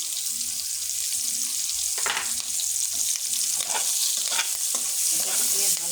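Pointed gourd pieces fry in a pan with chopped onion and green chilli, giving a steady, close crackling sizzle throughout with faint stirring scrapes.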